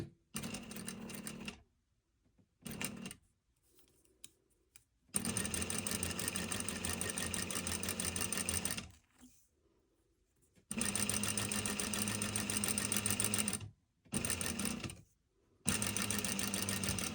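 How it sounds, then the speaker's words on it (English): Sewing machine stitching a half-inch seam right across an intersecting point where four corners meet, running in loud steady bursts of several seconds separated by short pauses, with no talking. "Make sure you sew right over that intersecting point."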